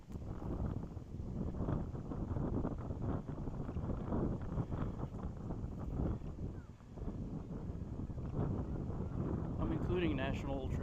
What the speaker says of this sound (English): The weather is windy.